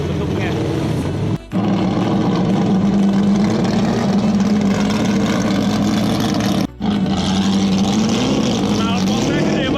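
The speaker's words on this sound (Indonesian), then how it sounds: "Knalpotnya gede banget ukurannya dan super berisik ya." An offroad tubular dirt car with a very large, very loud exhaust roars steadily close by as it drives off, with a deep droning engine note and two brief dropouts, while someone talks over it.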